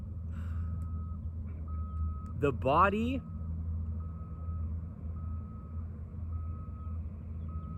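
A truck's high reversing beeps sound at regular intervals over a steady low engine rumble, while a person talks briefly.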